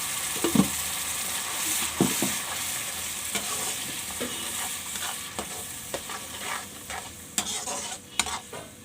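Tomato gravy sizzles in a hot pan as a spoon stirs it, with scraping strokes and clinks over a continuous close frying hiss, without talk.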